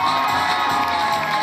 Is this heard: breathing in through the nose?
no